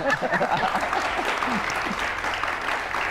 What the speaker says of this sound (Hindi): आप लोग मेरी बेइज्जती पे भी ताली बजा रहे हैं।